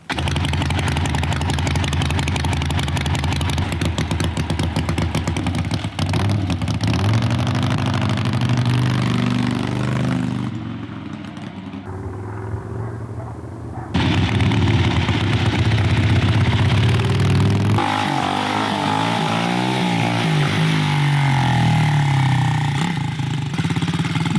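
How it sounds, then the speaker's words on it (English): A homemade pit bike engine runs steadily, drops off briefly partway through, then comes back with revving and changing pitch as the bike is ridden, loud and close the whole time. "So let's see if it doesn't start up in the first couple of kicks, and we'll ride it around and see what it sounds like."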